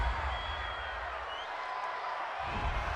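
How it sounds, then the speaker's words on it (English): Stadium crowd at a Carolina Panthers versus New Orleans Saints football game reacting against a penalty call, a broad roar of disapproval swelling and fading, distant and dense. "Well, this crowd does not like that call."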